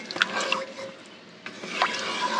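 Water, about a cup, poured into a pot of cooked white beans for Tuscan white bean soup, giving a close, bubbling splash with a few drips.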